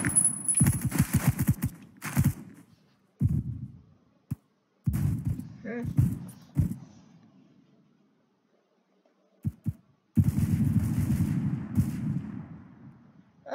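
Bursts of gunfire from the Roblox shooter Phantom Forces, arriving in clustered rapid volleys and single sharp shots separated by quiet gaps, loud and close, with brief speech between the bursts.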